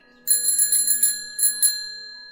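An ice cream seller's bell rings in a quick series of bright metallic strikes, about eight in all, close and clear with a lingering ring, and no voices.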